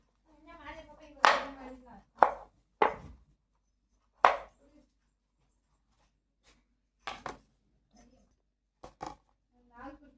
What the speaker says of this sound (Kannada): ಇದನ್ನು ಇವಾಗ ಫುಲ್ಲು ಚಿಕ್ಕದಾಗಿ ಕಟ್ ಮಾಡಬೇಕು